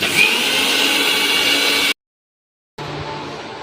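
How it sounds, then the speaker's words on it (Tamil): A mixer grinder whirring as oil is blended into homemade mayonnaise: a loud, steady motor drone, a brief stop into silence, then a second, slightly quieter run. "கொஞ்சம் எண்ணெய் ஊற்றிக்கிடுவோம் ஊற்றிக்கிட்டு அரைக்கணும்"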